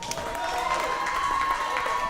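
A live wrestling event crowd cheers and applauds in a steady, sustained roar of many voices that fills the arena evenly from start to finish.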